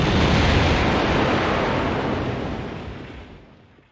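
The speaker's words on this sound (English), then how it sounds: "to make her explode into pieces instead" Lara Croft blowing apart in Tomb Raider 2 gives a loud, dense, rumbling explosion burst that starts at full strength and slowly dies away over about four seconds, with no voices.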